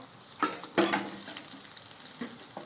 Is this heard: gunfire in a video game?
no